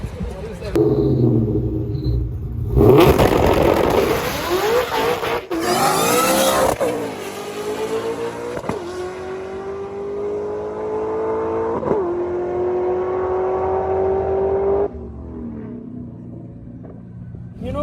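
A drag race car launches and accelerates hard down the strip on a hot day, its engine roaring loud and close before rising through gear changes. The pitch climbs steadily and the roar then fades away into the distance.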